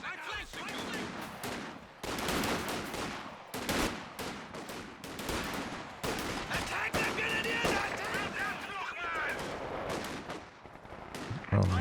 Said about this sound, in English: Machine gun quite far at the back here